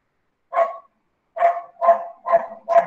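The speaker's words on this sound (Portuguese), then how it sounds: "O André tem um cachorro escondido aí que eu amo" A neighbour's dog barks from another home, five sharp mid-pitched barks: one single bark, a pause, then four evenly spaced barks in a quick rhythm, moderately loud with no talking over them.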